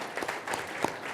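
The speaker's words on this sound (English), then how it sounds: "Give yourself a round of applause" A forum audience briefly applauds itself, producing a short, dense wash of clapping at moderate volume that lasts about a second.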